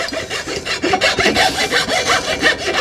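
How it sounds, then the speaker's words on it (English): A metal file strokes along the end of a slasher blade, rounding it off: steady rasping back-and-forth scrapes in an even rhythm, close and fairly loud, with no talking. "Now I'll use the file here, because that's just to round off the end."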